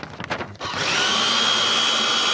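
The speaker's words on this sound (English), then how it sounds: "It only takes a minute to shred papers with personal information" A paper shredder shredding sheets of paper: a few brief rustles, then a steady, loud motorized whirring grind that holds to the end.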